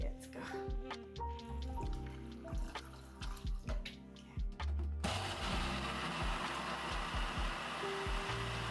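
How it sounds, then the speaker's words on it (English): A kitchen blender whirs through turmeric, ginger, lemon, beets and water, starting up midway with a loud steady grinding drone after a stretch of clinking and pouring sounds; no speech over the motor. "Add some water and then blend away."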